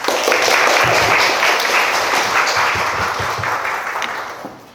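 Audience applause welcoming speakers at an artist talk for a craft exhibition, a steady wash of many hands clapping close by, holding strong before tapering off at the end.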